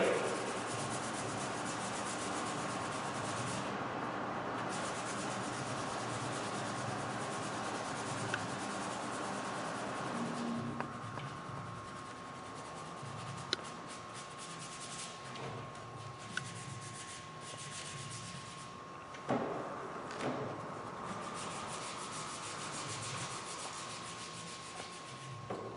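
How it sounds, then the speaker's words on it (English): Steady, continuous rubbing of sandpaper along the grain of a wooden Romanian AK-47 rifle stock, close and even for the whole stretch, with a few small knocks and pauses in the strokes. "Always sand with the grain."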